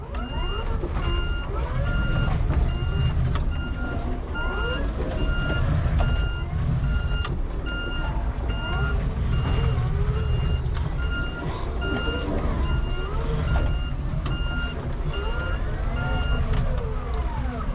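A Hangcha forklift reversing sounds its steady repeating reverse beeper over a continuous engine rumble, with a voice talking underneath.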